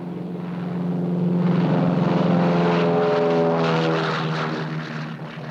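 A Douglas DC-3 propeller airliner in flight, a steady, loud, droning engine hum that swells and then eases slightly, with no voices.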